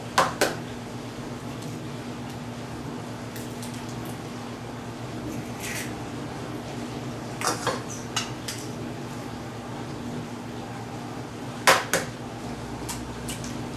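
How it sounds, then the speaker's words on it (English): Eggs cracked into a separate bowl while baking a cookie cake, a few sharp taps and knocks against the bowl scattered over a steady hum of a kitchen fan, with quiet clinks of dishes between them. "you want to crack the eggs into a separate bowl first so that you can get out any of the shells that fall in"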